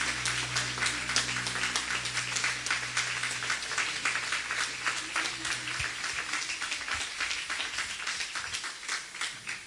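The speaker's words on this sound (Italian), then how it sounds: "facciamo un applauso al nostro Gesù" A church congregation claps together in praise, a steady, moderately distant wash of many hands over a low sustained hum, continuing without a break.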